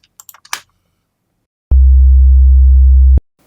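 A pure low sine tone, two identical in-phase signals summed to double loudness, sounds steadily for about a second and a half after a few faint clicks, then cuts off abruptly.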